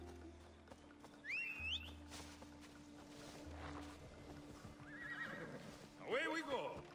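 A horse in the game Assassin's Creed Odyssey whinnies in two clear rising-falling calls, followed by further whinnying near the end, over a low engine-like hum and faint hoofbeats, with a voice talking in the background.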